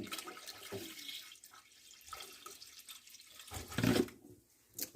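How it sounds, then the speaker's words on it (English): Room-temperature tap water poured into a canning pot holding jars, a soft uneven gurgle and splash that swells near the end, heard close with no speech. "I'm just going to be pouring room temperature water"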